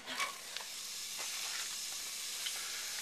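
Chopped onion sizzles in hot olive oil in a pan, a soft, steady hiss with faint crackles and light stirring, and no voices.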